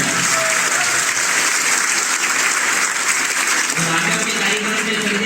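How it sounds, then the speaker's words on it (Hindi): Loud, steady applause from a large crowd, continuous clapping filling the whole stretch without pause. "कई बार जोरदार तालियां"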